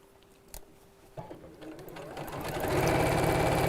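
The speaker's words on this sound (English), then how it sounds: "Right, so I'm just sewing all the way around the top." A sewing machine stitches around the top of a furry bag, starting with a few slow clicks and then settling into a fast, steady mechanical rattle that grows louder and continuous.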